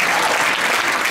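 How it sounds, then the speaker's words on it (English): Audience applause at a high school pops and jazz concert: a dense, even wash of many hands clapping, with no voices over it. "Let's give him a quick round of applause."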